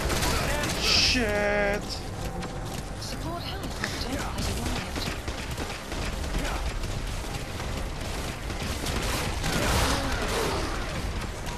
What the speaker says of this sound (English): There's really no point shooting with a freaking silencer and a tranquilizer.